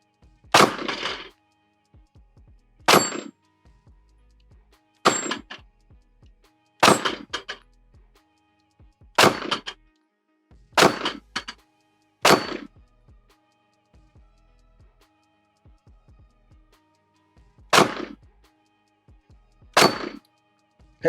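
Springfield SA35 Hi-Power clone pistol fired outdoors at a steel plate, about nine sharp loud shots spaced a couple of seconds apart, each with a ringing tail, and a longer pause before the last two.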